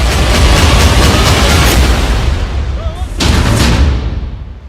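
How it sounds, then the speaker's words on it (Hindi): Heavy blasts and rumbling in Gaza war footage, a continuous loud roar of explosions with a brief dip before another burst, dense and distant-sounding with no clear speech. "डबल धमाका,"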